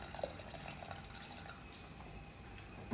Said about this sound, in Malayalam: ഞാൻ കുറച്ചും കൂടി വെള്ളം ഒഴിച്ച് കൊടുക്കുന്നുണ്ട്